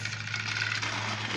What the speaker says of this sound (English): If you hear a lawnmower in the background,